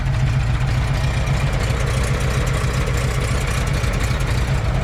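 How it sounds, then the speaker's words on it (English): Steady, loud engine idle from a 1990 Volkswagen Vanagon Carat, its worn, rusty muffler giving a continuous low rumble that holds even throughout without revving or talk. "And the muffler is not in the best shape, as you can tell right here."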